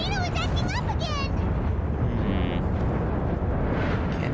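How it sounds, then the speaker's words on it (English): A volcano erupts in the video game Genshin Impact as a continuous loud, deep rumbling roar, with a few rising whistle-like sweeps at the start. "The volcano is acting up again!"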